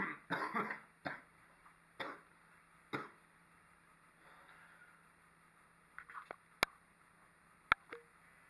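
Several short coughs spaced apart, sharp bursts followed by quieter breaths, then a few faint clicks and taps toward the end.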